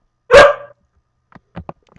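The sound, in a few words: dog howling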